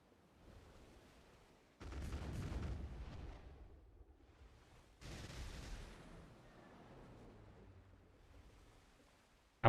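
Ship cannons boom twice in the Black Desert Online video game, two heavy blasts a few seconds apart, each trailing off into a rumbling decay at fairly low volume.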